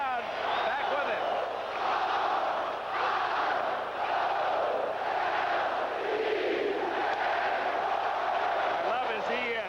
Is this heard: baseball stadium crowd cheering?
yes